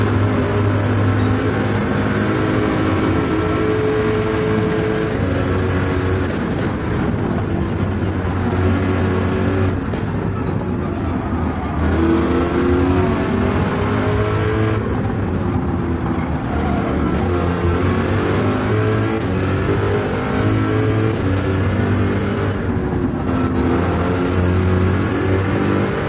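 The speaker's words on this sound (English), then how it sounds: "the Corvette is giving it everything it's got. The engine growls, the tires grip" A Chevrolet Corvette racing in Gran Turismo 7 growls and revs hard, its loud engine note rising and falling steadily throughout without a break, with no voices over it.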